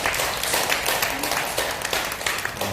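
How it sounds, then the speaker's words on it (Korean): Applause from the congregation at a Buddhist dharma assembly in a temple hall, a dense, steady wash of clapping sustained for a few seconds at moderate level. "다시 한번 박수 보내주십시오."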